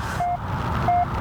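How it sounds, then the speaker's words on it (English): Two short, steady electronic beeps from a code sequence in the horror video game Penumbra: Overture, evenly spaced over a low, rumbling background drone. "Okay, so we've got beep, beep, beep, beep, beep."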